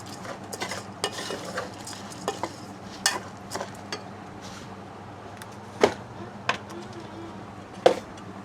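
Mustard oil, turmeric and salt being mixed into food by hand in a home kitchen, with soft irregular stirring and squishing sounds and occasional sharper clinks and taps, close and fairly quiet.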